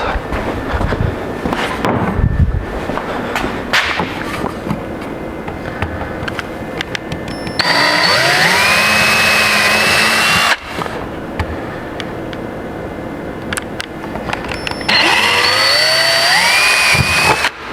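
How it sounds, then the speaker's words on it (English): A power drill whirs in two loud bursts of about three seconds each, rising in pitch as it bites into scrap wood, with quieter handling noise between. "we're just going to drill a couple holes"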